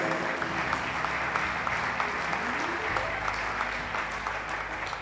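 An audience at the CAP 2022 gathering claps steadily and warmly throughout, a dense continuous patter of applause with some voices mixed in.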